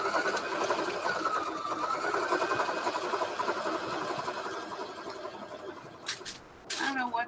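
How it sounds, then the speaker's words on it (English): A sewing machine whirs steadily for several seconds, a continuous mechanical buzz, then stops with a few short bursts near the end. "it's me on the sewing machine"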